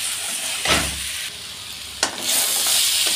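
Vegetables sizzling in a pan for a Bengali jhinge jhol, with a steady soft hiss and two brief sharp flares of sizzle as food is stirred.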